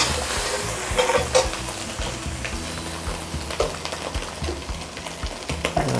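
Curry powder and fried rice ingredients are stirred in a hot pan, a steady sizzle under repeated scraping strokes of a spatula, close and even, with no voices.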